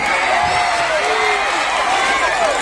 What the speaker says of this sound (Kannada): ಸಾಲಲ್ಲ ಈ ಚಪ್ಪಾಳೆ ಸಾಲಲ್ಲ